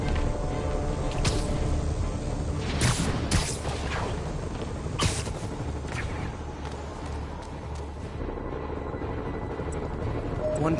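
Helicopters in the Spider-Man PS4 video game, a steady low rotor rumble filling the scene with occasional sharp bursts and whooshes from gameplay action, constant and fairly close.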